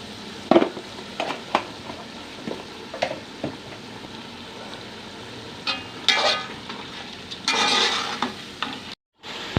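Mutton frying with red chili in a pot for bakra pulao, irregular spoon scrapes and clanks over a low sizzle, with a louder burst of frying noise near the end, close by and without talking.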